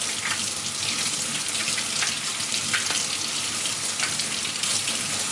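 A kitchen tap runs steadily while green bananas are sliced beneath the stream, a constant loud, close hiss of splashing water with faint irregular ticks from the knife, and no voices.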